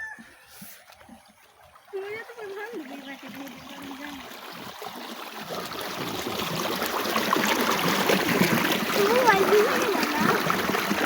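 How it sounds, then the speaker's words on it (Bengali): Water flowing and trickling through a mustard field, a steady rushing stream that grows louder and fuller over the clip, with people talking over it near the start. "এই দেখো কত সুন্দর পানি আসতেছে।"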